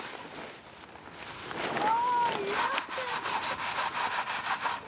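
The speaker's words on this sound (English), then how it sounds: "the chaff is removed by first passing the seeds through a coarse sieve that retains the chaff" Brussels sprout seeds and chaff are shaken through a coarse sieve, making a rhythmic rustling, rasping scrape that builds to repeated close strokes, with faint background voices.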